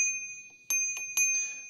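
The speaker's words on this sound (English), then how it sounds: "Got your brakes, got your bell right here." Bicycle bell on an e-bike handlebar rung three times, bright metallic dings with a sustained ringing tone, close and clear.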